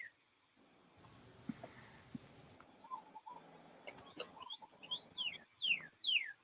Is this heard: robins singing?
yes